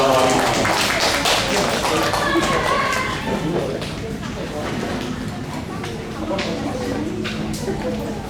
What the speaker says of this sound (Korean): 우리 아이들 축복의 박수 하겠습니다.